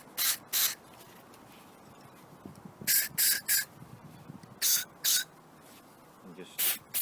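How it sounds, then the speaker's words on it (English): Cleaner sprays in short hissing bursts, mostly in pairs and about nine in all, onto an engine temperature sensor, loud and close, with faint low murmuring between the bursts. "spray the temperature sensor, spray right down in there, just keep spraying it"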